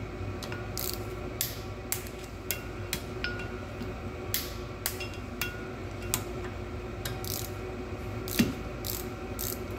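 A torque wrench tightens wheel bolts on a Ford Transit Mk8 van, making a steady series of quiet ratcheting clicks with one sharper click near the end, with no talk.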